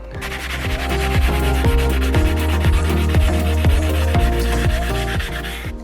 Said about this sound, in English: now we've completely ruined the bolster by sanding it